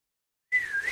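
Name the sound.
person imitating a whistle to call a boat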